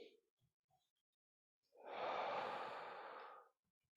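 A single long, close breath of nearly two seconds during a joint-by-joint mobility breathing exercise, following a few faint soft sounds in near silence, with no talking.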